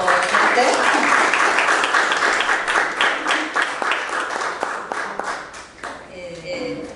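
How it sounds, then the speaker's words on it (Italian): Audience applause at a festival event in Italy, many hands clapping loudly and continuously, with individual claps standing out as it thins toward the end and a voice briefly speaks over the tail. "facciamo un applauso per te."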